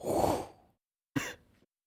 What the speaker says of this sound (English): That's just somebody breathing into a mic.